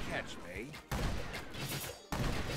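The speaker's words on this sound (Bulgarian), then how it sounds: "Бомба! Бум!" Explosions in the strategy video game Brawl of Ages, with sudden loud broadband blasts close together and a busy, crackling battle din, mixed with someone talking excitedly.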